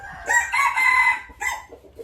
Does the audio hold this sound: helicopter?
no